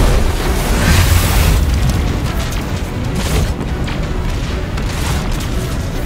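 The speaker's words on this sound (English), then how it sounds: "Missiles! Stay inside my shield!" Missile explosions in the Destiny 2 shooter game, a loud continuous rumble of booming blasts that stays heavy from start to finish, with no voices.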